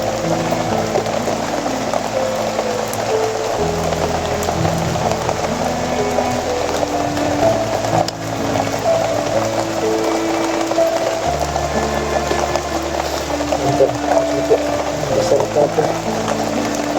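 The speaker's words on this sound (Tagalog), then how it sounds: "ito na po yung ulan" Heavy rain pours steadily as a dense, constant hiss and patter on a surface, loud and unbroken throughout, with a low steady hum beneath.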